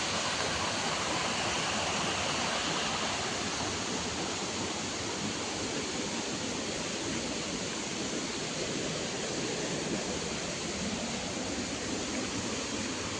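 Steady rushing water from small forest streams near Aruvikuzhi waterfall, a dense continuous roar with no pauses, close and loud throughout.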